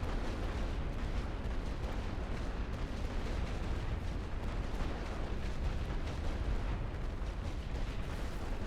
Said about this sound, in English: Think of this as the secondary preliminary bombardment.